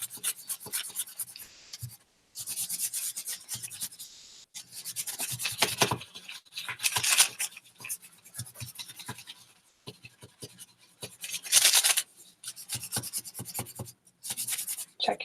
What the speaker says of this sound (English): And burnish real thoroughly again. To hit all areas of the image.